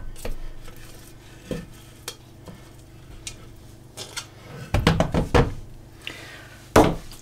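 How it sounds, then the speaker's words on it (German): Garlic naan dough with small lumps of butter is scraped down the sides of a Thermomix TM6 mixing bowl, giving a series of sharp clacks and scrapes with a louder cluster near the end. No one speaks. "Ich schiebe das jetzt nochmal alles nach unten."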